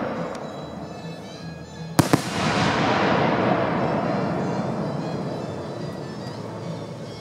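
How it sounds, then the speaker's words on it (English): A 5-inch Pixie Dust with Aqua Pistol firework shell bursts with a sharp loud crack, then a long, dense crackling hiss that slowly fades. "Next up is the 5-inch Pixie Dust with Aqua Pistol."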